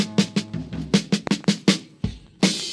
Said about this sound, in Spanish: La batería suena así.